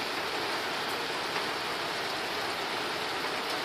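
Steady rain falls at the end of September, a dense, even hiss of drops that holds at one level throughout with no talk over it.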